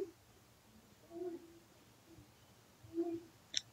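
An owl hoots twice, low and soft with a pause between the calls, against a quiet background followed by a brief high click.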